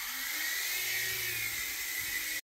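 A 2009 Nine Eagles Solo Pro V1 RC helicopter, repaired, its rotor and small electric motor giving a steady high-pitched whine close by that cuts off abruptly near the end.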